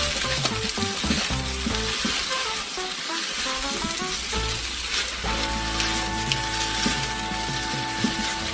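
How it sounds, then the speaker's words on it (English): Fried rice with shrimp and beef sizzles hard over high heat, a close, steady crackle with scraping stirs and clatter layered over it throughout. "So I'll let this fry on high heat for like 5 minutes"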